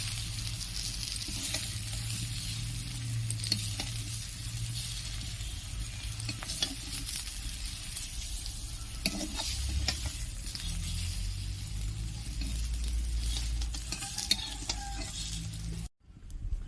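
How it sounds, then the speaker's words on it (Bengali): Potatoes fry in hot oil in a kadai with a steady sizzle throughout, joined by occasional stirring scrapes and clinks, before cutting off near the end. "আলুগুলোকে ভেজে নেব ভালো করে"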